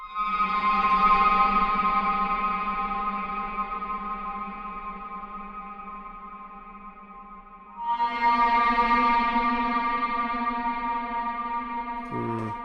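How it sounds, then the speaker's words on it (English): Heavily distorted synth pad through Soundtoys Decapitator saturation, a dense buzzing sustained chord that fades slightly, then swells back in louder around the middle with a brighter, harsher drive setting, playing alone without voices. "one of my favourite tricks, which would be to then smash it to death. And I usually use Sound Toys Decapitator for that"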